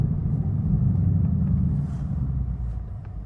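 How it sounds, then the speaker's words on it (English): A manual car pulling away as the clutch is released, with a steady low engine rumble held close and loud for a few seconds, then easing slightly toward the end. No voices. "slowly release the clutch off and slowly press the gas"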